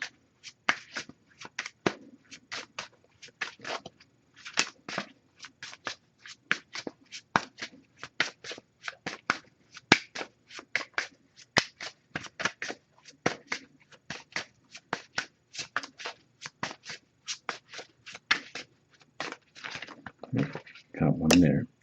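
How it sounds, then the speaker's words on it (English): A Messages of Love oracle card deck being shuffled by hand, dozens of quick crisp riffling bursts in an irregular rhythm, close and fairly quiet, ending with a brief louder rustle. "Just going to pull a single card from this deck."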